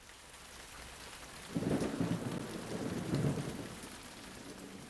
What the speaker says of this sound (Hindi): बाहर तो बहुत जोरों की बारिश हो रही है।